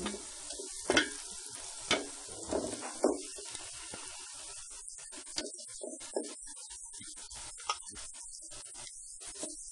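Chopped pieces stirred with turmeric in oil in a pan, giving a soft, steady sizzle broken by several scraping stirs, some sharper clacks early on and quieter ones later, close and with no talking.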